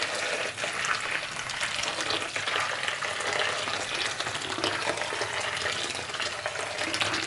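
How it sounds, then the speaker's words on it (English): Hot boiling water being poured over Maggi liquid seasoning in a bowl for oxtail stock, a steady splashing, sizzling pour that runs close and continuous. "then I'm going to put in some hot boiling water."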